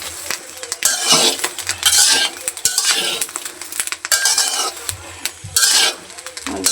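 Oil goes into a hot pan of roasted green chillies, giving repeated bursts of sizzling and frying mixed with metal utensil scrapes and clinks against the pan, close and fairly loud.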